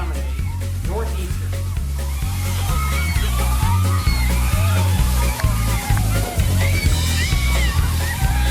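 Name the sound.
large amount of water dumped from a front loader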